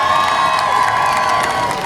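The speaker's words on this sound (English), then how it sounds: "So let's give those folks a round of applause." Crowd applauding and cheering at a Texas State Employees Union gathering, a loud continuous roar of claps with whoops and shouts over a steady din.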